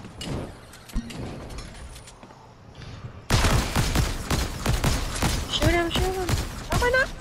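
Gunfire in the Fortnite video game on PS5, a dense fusillade of rapid shots that jumps loud partway through and keeps crackling, with people talking over it.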